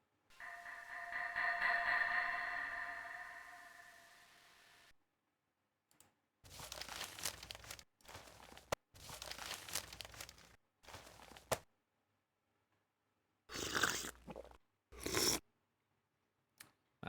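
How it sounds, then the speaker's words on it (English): Wet, squelchy slurping from a creature in the Windows 3.x game The Dark Eye comes in a series of separate bursts, some long and some short, with silent gaps between them, after a droning tonal sound at the start. "I think I would kill him before those slurping noises"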